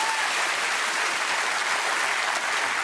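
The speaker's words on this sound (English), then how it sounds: "I will applaud that." Studio audience applause on a comedy news show, a loud, dense, continuous wash of clapping that holds steady throughout with no voices over it.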